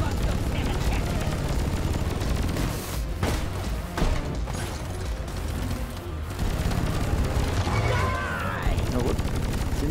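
Rapid bursts of Drak plasma carbine fire in a Warframe-style game, dense thumping shots and impacts nearly continuous over loud game noise, with a voice speaking over the action.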